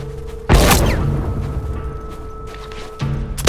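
A bomb explodes in the video game The Last of Us: one sudden, loud blast followed by a long rolling rumble that fades under a steady background hum, with another thump near the end.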